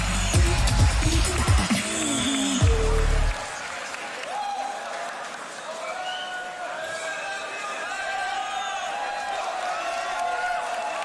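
A crowd at a beatbox competition event applauding and cheering, a loud dense burst of clapping and shouts at the start that cuts off after three seconds, leaving quieter murmuring and a voice speaking.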